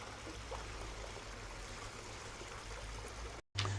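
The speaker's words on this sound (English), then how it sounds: "I'll give that a wash down now with the hose pipe as well." Water from a hose pipe runs steadily over a pond pump in a koi pond setup, a constant close splashing trickle that cuts out sharply near the end before resuming.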